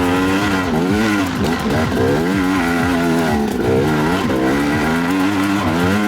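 A KTM Freeride 250R enduro motorcycle climbing a rough, bumpy trail: loud, close engine wailing continuously, revs rising and dipping rapidly with the throttle over uneven ground.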